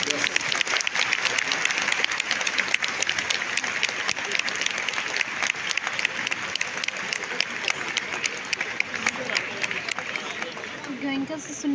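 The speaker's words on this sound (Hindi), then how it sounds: "तालियां जोरदार होनी चाहिए, एक बार हाथ उठा के" Lively audience applause at a company anniversary event, a dense crowd clapping steadily for about twelve seconds while a voice speaks over it on a PA.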